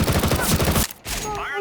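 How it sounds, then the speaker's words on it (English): Grenade impact kill in the video game CS:GO: a dense, loud burst of gunfire-like blasts for most of the moment, then a short dip and a brighter whooshing, whistling tail. "Of course, I'm talking about the grenade impact kill."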